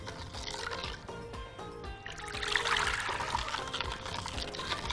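Water poured into a jar while making pickled lemons, a gurgling, splashing stream that runs steadily and swells louder partway through, close by with no talk.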